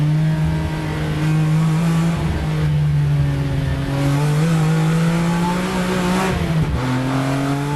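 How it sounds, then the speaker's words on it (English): Saloon race cars, BMWs and a Ford Puma, race at Cadwell Park circuit, their engines droning loud and continuous with pitch rising and dipping through gear changes and corners, and more than one car audible at once. "another classy drive from Hadfield in his Ford Puma saw him finish not far behind the two BMWs at the checkered flag"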